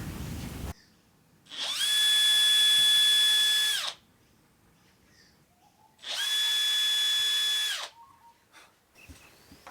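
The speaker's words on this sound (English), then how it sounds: "I'm just going to drill 2 little pilot holes for the screws that will secure the hinge in place." A power drill whines through two short bursts about two seconds each, boring pilot holes for cabinet door hinge screws in a bus kitchen, close with quiet gaps between them.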